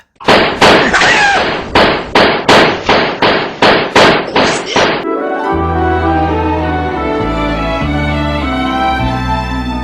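Gunshots ring out in a rapid series of about a dozen loud, evenly spaced bangs, then stop as music takes over.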